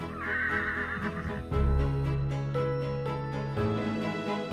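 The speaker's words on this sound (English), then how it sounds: "But when Ghost let out a little neigh," A horse whinnies loudly nearby, a long wavering neigh rising and then settling into a lower drawn-out call.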